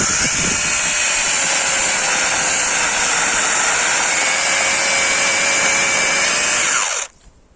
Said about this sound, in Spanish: Pues vamos a darle con la motosierra y a ver qué tal corta.